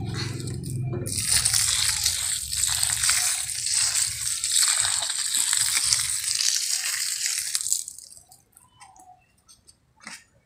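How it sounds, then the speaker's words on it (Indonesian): Rice water pours and splashes steadily onto compost for several seconds, then stops, leaving faint rustling. "Pertama saya siram pakai air beras dulu."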